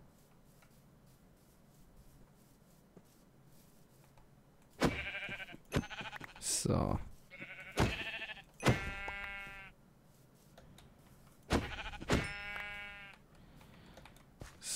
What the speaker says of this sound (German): Da, Schafe.